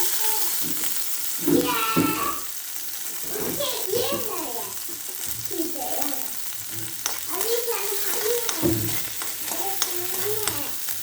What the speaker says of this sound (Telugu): నెయ్యి వేసి ఇలా పచ్చిమిర్చి బాగా వేగాక అందులోకి ఆనియన్స్